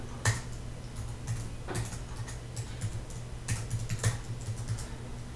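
A sudo password being typed on a Mac computer keyboard, scattered soft key taps in irregular bursts, close and quiet against a faint steady hum.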